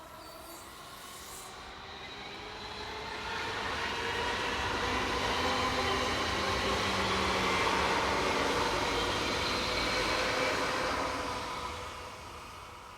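A Class 424 four-car articulated electric train set passes on a stopping service, its rolling rumble swelling from moderate to loud and then easing, with a steady broadband whoosh and faint wheel squeal, no voices.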